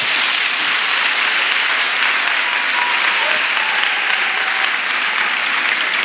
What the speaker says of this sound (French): Acclamation à Jésus-Christ.